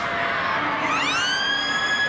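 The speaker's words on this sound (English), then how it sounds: "There's the siren now, so there's no need for any more." A loud half-time siren at a 1996 rugby league match wails continuously, its pitch sweeping upward midway and then holding steady, with no voices over it.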